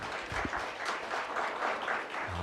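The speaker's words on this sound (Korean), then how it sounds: "이렇게 발언이 끝나니까 바로 그냥 박수를 쳐주시고" Audience applause breaking out right after a speaker finishes at a policy debate on franchise support in Gwangju, a steady wash of many hands clapping at moderate distance, sustained through the clip without talk.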